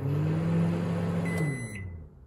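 A Panasonic microwave oven hums with a steady low drone for about two seconds, then winds down as a high-pitched tone chimes near the end.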